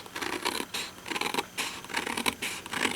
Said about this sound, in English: I am just going to use my snips